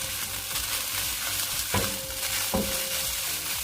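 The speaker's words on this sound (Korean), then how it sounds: "불을 끄고 참기름 1큰술과 통깨 1큰술을 넣고 섞어줍니다." Spatula stirring fried rice in a hot pan after sesame oil and whole sesame seeds go in, with steady soft sizzling, a couple of scraping knocks, and no talk.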